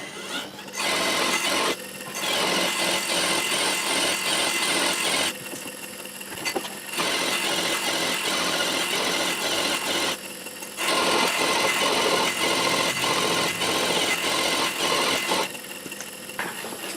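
Ultimation disc sander motor grinding segmented wood wedges, a steady loud motor drone with abrasive sanding that drops back in level briefly several times as pieces are changed.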